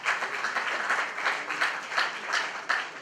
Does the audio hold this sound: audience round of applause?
yes